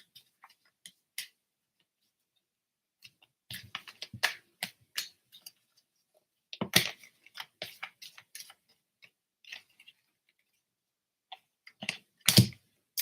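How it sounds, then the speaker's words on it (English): Tarot cards are shuffled by hand in scattered bursts of soft, crisp slaps and riffles with short quiet gaps between them, close and fairly faint, with no talking. "I want to just shuffle these cards really good."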